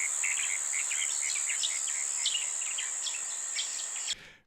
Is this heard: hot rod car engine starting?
no